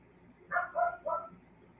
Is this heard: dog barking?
yes